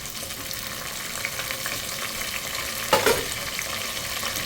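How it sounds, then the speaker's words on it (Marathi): Garlic, ginger and onion sautéing in a pan on the stove, a constant close hiss of frying with a brief louder scrape and clatter from stirring near the middle, no talk. "लसूण कलसला की लगेच कांदा टाकून घ्यायचा आहे."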